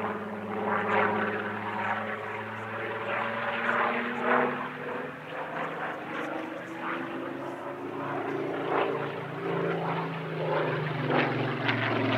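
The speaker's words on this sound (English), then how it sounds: "This, sadly, was the only Spitfire at the Midlands Air Festival." A Supermarine Spitfire flies at the Midlands Air Festival airshow, its propeller engine giving a steady, rich droning roar with a shifting pitch as it passes, continuous and fairly loud throughout.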